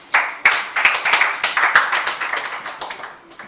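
A church congregation applauds, a burst of many hands clapping that starts sharply and holds steady for a few seconds before tapering off, with no talk over it.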